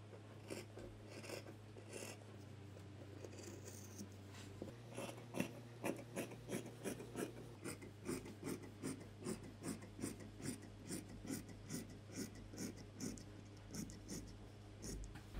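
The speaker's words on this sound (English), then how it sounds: "Now cut 1/2 inch above this curve, that is the seam allowance, and cut on the other marking as well." Scissors cut knit stretch fabric along a marked curve for a short circular skirt, giving a steady series of soft, close snipping and rasping strokes, quiet and unaccompanied by talk.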